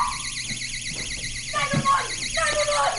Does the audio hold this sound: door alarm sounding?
yes